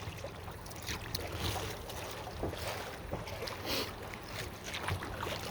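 A kayak runs through small river rapids below Kinzua Dam, water rushing and splashing around the hull in a steady churn, with gusty wind buffeting the microphone and no voices.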